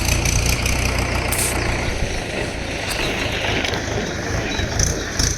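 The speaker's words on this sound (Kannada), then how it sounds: "tractor sound" A tractor stands on a quiet village road with its engine running, a steady low idling chug close by that thins out after a couple of seconds, leaving a rougher background rumble.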